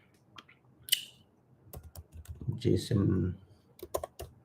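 Computer keyboard typing in short bursts of clicks, with a person talking over it.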